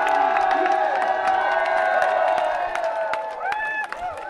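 A crowd cheers and applauds as a triathlete finishes the Elfstedentriatlon in Leeuwarden, Friesland. The cheering and whoops run continuously and loudly, with voices mixed in.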